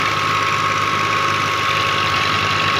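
A Russian tractor engine runs steadily through mud, giving a continuous loud low rumble with a knocking, idling character and no pauses.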